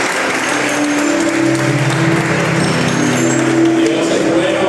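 A church congregation applauds loudly and continuously, a thick wash of clapping with sustained tonal hum beneath and voices mixed in throughout.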